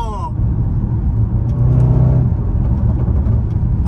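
A loud SUV engine revs hard up close, a steady powerful roar that swells to a peak midway and then holds at a high, even drone with no one speaking.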